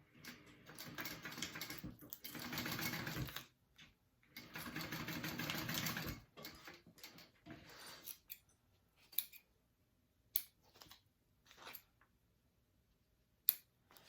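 A sewing machine runs two long bursts while stitching a quarter-inch seam on a bag, then falls to scattered clicks and short taps near the end, with no talk.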